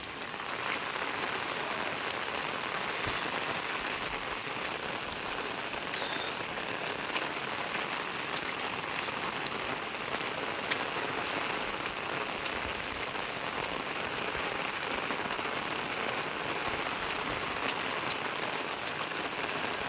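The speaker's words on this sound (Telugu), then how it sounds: "వాన అయితే చూడండి ఎట్లా ఉందో" Heavy monsoon rain pours down steadily outside a house, a dense, continuous hiss of drops hammering surfaces, loud and unbroken throughout with no voices.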